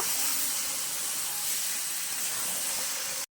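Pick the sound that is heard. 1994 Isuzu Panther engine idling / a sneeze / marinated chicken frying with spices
marinated chicken frying with spices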